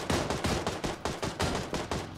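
Rapid PUBG gunfire fills the whole stretch, a close, loud string of about nine sharp automatic bursts and shots in quick succession, with no talking over it.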